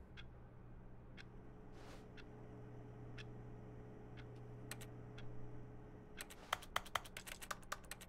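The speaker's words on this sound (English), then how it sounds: "if I press E, it makes a keyboard sound." Keyboard typing from the video game The Stanley Parable ticks over a quiet hum: sparse isolated keystrokes at first, then a fast burst of crisp, close clicks near the end, with no talking.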